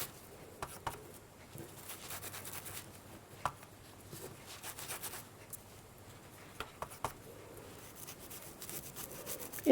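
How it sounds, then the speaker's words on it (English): Chalk being scrubbed by hand into a bread-and-glue mosaic tile frame, a soft, quiet rubbing and scratching with scattered light taps and brief clicks. "And see how I just scrub it in."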